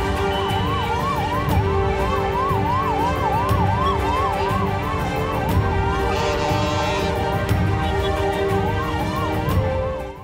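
A 108 ambulance carrying a patient, stuck in a traffic jam on the road from Attur toward Salem, its wailing siren sweeping up and down steadily and loudly over the rumble of idling traffic.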